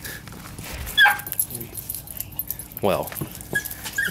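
Mini pocket beagle puppies give a few short high whimpers and yips in two brief bursts, close by, while a person talks over them.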